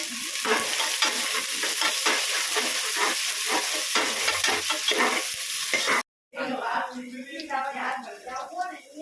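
Green chillies hit a hot pan of oil for a boys' summer feast, bursting into loud, dense sizzling with steady scraping stirs; a brief drop to silence, then quieter crackling and stirring resumes.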